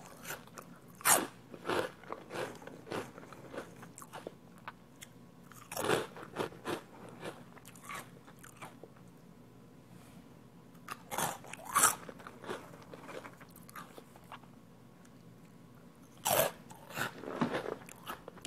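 Large Thai rice crackers from a giant bag are bitten and chewed up close, with loud crisp crunches arriving in irregular bursts between quiet pauses.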